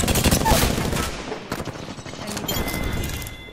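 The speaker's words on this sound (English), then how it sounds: "I am taking fire, friends." Rapid gunfire in the Apex Legends battle royale game, loud bursts of automatic shots with short gaps, continuing dense volleys throughout.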